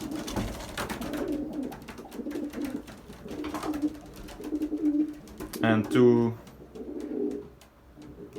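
Racing pigeons, a loft of 2018, 2019 and 2020 birds at the end of racing season, coo in soft repeated rolling calls while someone talks over them nearby.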